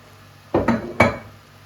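Chopped liver stirred in a pan, giving two or three close scraping clinks of a utensil against the pan, each a short burst within a quiet stretch.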